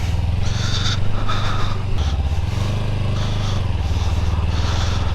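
A Kawasaki Ninja 300 motorcycle labours slowly over a rough, trackless off-road route between Manali and Killar, its engine droning loud and steady close by, with the revs dipping and rising.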